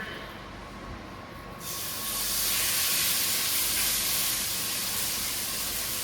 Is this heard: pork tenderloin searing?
yes